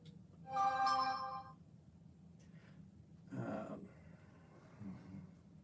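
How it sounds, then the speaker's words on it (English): A phone's message notification tone plays once as a short chime in a quiet garage. Softer breathing or shuffling noises follow, and no one speaks. "No, that was my phone. Somebody sent me a message."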